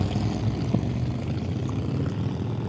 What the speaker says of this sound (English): As soon as these goddamn motorcycles get up out of here.